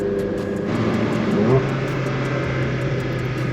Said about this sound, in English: The downshift is nice, isn't it?